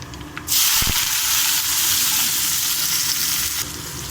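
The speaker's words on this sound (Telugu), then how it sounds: "ఆయిల్ వేడైందండి, ఆవాలు వేస్తున్నాం. జీలకర్ర, ఆవాలు, జీలకర్ర వేసానండి. ఇప్పుడు ఉల్లిగడ్డ వేసుకున్నాము." Chopped onions drop into hot oil with mustard seeds and cumin seeds, setting off a sudden loud, steady sizzle that continues close and strong, then eases slightly near the end.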